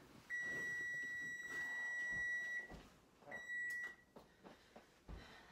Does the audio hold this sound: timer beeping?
yes